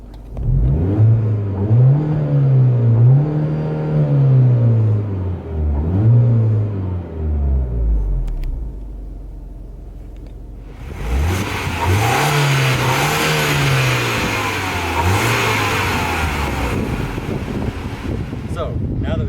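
A Mini Cooper R56 with the stock setup revs in sport mode, heard from inside the car with the windows up. The engine rises and falls in repeated strong pulls, loud and steady, with a brief quieter lull midway before the revving resumes.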